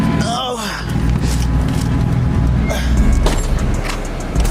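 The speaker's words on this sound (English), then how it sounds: "I'm gonna do the rev in the shop" A V6 fourth-generation Chevrolet Camaro with a newly installed exhaust revs inside a shop, giving a loud, continuous engine roar that swells and falls, with voices and exclamations heard over it.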